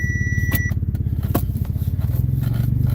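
Chevrolet Corvette C6 on the road with new coil packs and plugs, its engine giving a steady pulsing low drone from inside the car, with a brief electronic beep near the start.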